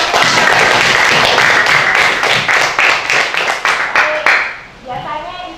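Students in a classroom break into a round of clapping, the claps dense and steady for several seconds before thinning into a few scattered ones and a murmur of voices.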